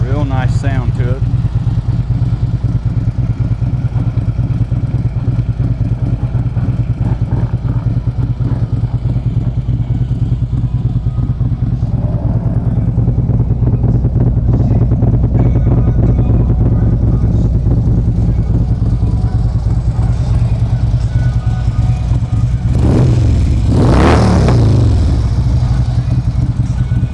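A used Harley Davidson Ultra Limited FLHTK motorcycle idles with a steady, loud low rumble throughout, and a brief rev swells near the end; a person talks over the engine at times.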